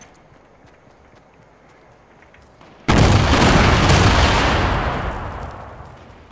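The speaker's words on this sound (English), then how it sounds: "Okay, I'm gonna explode this one. The gate." An explosion blasting open a gate in Fortnite, a sudden loud boom midway that rolls into a long, fading rumble after a few seconds of quiet game ambience.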